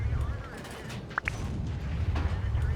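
Muffled cannon shots from a T-50-2 light tank in a tank video game on the El Halouf map, sounding somewhat distant over a low engine rumble, with a voice talking faintly underneath.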